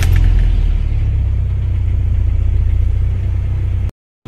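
A Toyota FX Revo engine, just refilled with coolant after a thermostat and PCV valve change, runs with a loud, steady low rumble close by. A short drop to silence comes near the end.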